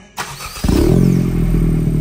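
A 2022 Honda Civic Si fitted with a 27WON exhaust cranks briefly and fires up, settling into a loud, steady idle with a deep exhaust drone, close by.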